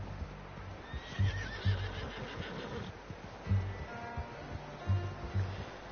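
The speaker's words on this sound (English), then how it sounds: "How's that new horse?" A horse in Red Dead Redemption 2 neighs in a long wavering whinny, with repeated heavy hoof clops and a low background rumble, no talking.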